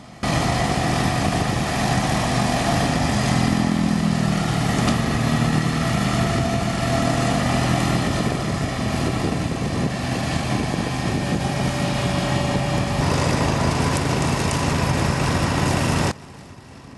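A tractor pulling a Bush Hog rotary mower through axle-high bird vetch and quackgrass, a steady loud engine drone with a whirring blade, continuous and close until cutting off near the end.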